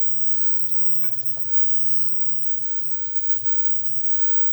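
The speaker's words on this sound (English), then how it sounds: "let's add in some soy sauce" Soft sizzling and frying in a pan with stirring scrapes as soy sauce is poured in alongside cumin and pepper, a quiet steady crackle with no voices.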